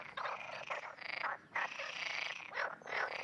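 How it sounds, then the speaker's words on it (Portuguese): Frogs croak in a dense mating chorus in the Iberian Peninsula, a loud, continuous throaty trilling with brief dips in the calling and no voices. "As rãs coacham soprando o ar dos pulmões pelas cordas vocais"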